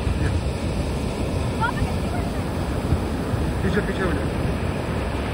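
Ocean surf at Vagator Beach, Goa, rolls as a constant broadband wash mixed with wind buffeting the microphone, with someone speaking briefly over it.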